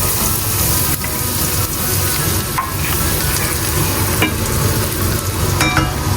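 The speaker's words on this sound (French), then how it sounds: "Donc là, on va mettre notre ail. On va le faire revenir." Garlic sautéing over medium-high heat in a pan as the base of a shallot steak sauce, a steady close sizzle and fry with occasional stirring scrapes throughout and no talking.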